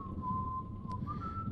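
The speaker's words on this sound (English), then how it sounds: "Someone's whistling." Someone whistles a single sustained, slightly wavering tone, faint and distant over a low background rumble, alone without talking.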